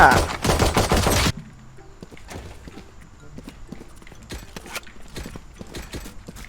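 A dense burst of rapid video-game gunfire opens loudly, then cuts to scattered sharp shots and clicks at lower level.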